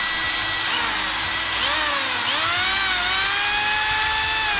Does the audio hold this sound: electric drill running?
yes